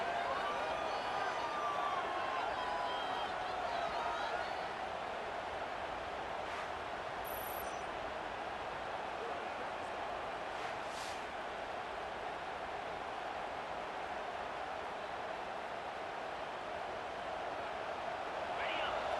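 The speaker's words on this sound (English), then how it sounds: "It's early, but this crowd is fired up. Listen to this noise here." A stadium crowd roars in the College Football 26 video game, a dense, steady wash of cheering and noise that holds loud and constant throughout, with faint announcer-like voices under it.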